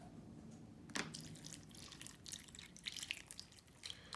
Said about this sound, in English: I'm just going to add water to the line.